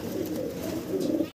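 Fancy pigeons kept in cages at a farm coo in low, rolling bursts that repeat and overlap, close and fairly loud, before cutting off abruptly.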